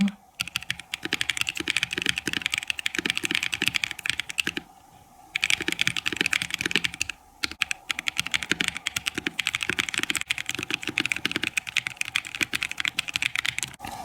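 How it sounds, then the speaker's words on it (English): Rapid, continuous clicking of keys typed on a LEOBOG K81 wireless mechanical keyboard with Ice Crystal switches, close and crisp, with two short pauses breaking the steady rhythm. "it is a pretty satisfying and smooth typing experience"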